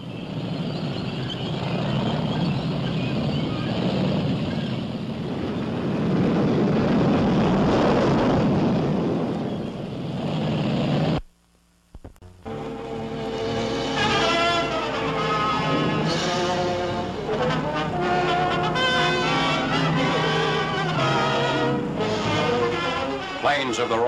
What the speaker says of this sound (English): Planes of the Royal Air Force fly over the beleaguered port city of Brest to bomb the vital Nazi U-boat base.